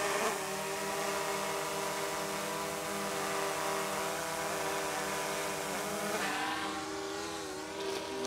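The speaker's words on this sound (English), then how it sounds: "that is a quiet drone" A DJI Mavic drone hovers nearby, producing a steady whining buzz of propellers with strong harmonic tones that stay even throughout.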